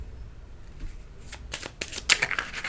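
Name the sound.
shuffling tarot cards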